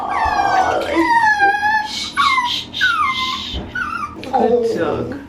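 A Pugalier puppy whimpers and whines in repeated high, wavering cries, close and fairly loud, while a person speaks soothingly over and between the cries.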